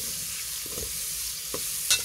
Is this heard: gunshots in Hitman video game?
no